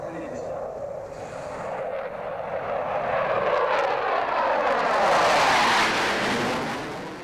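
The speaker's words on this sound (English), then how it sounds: "their aircraft are Mirage F1s, a bastion of France's air defence capabilities since the 1970s" Mirage F1 military jets of a French squadron roar past in tight formation at an air show, a loud rising and fading broadband jet rush that swells to a peak near the end.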